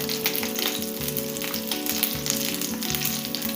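Chicken pieces fry in a pan for a couscous dish with pumpkin, giving a steady, close, continuous sizzle and crackle that runs through the whole stretch with no talking.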